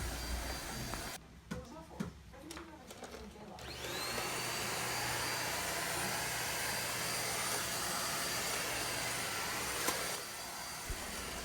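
A Deerma DX700 vacuum cleaner runs with strong suction. Some handling noise comes first, then the motor rises into a steady, loud whooshing roar that holds close and continuous, with no speech.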